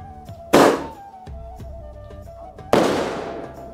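Diwali firecrackers bursting nearby, two loud sharp bangs with crackling decay about two seconds apart, over faint background chatter and distant pops.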